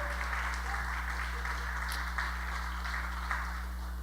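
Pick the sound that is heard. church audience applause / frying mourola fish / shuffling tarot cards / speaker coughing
church audience applause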